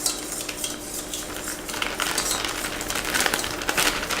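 A child stirs liquid ingredients for donut batter in a bowl with a utensil, steady scraping and clinking that grows busier and a little louder, close by with no talking.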